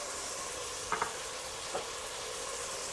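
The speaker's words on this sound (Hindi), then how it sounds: "ये सारा कुछ इसमें डाल के इसे 2 से 3 मिनट के लिए फ्राई कर लेंगे।" Spices with mint leaves, salt and ajwain frying in a pan for goat trotter mutton paya curry, a steady broad sizzle with a couple of faint utensil taps, no voices.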